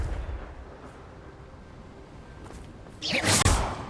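A fiery Confringo spell cast in Hogwarts Legacy bursts out late as a loud whooshing blast with an explosive crack, rising sharply over quieter game ambience.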